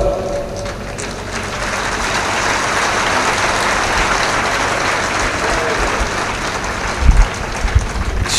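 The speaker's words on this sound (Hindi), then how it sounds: "संतों के नाम से बड़ी मीठी तालियां आई हैं," An audience at a spiritual gathering during the Kumbh in Ujjain breaks into sustained applause for the saints, dense clapping swelling and holding steadily, with a few louder bumps near the end.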